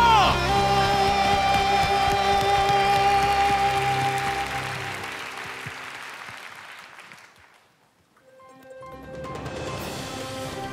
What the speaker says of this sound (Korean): 믿으시는 만큼 감사의 박수, 영광의 박수, 승리의 함성으로 나갑시다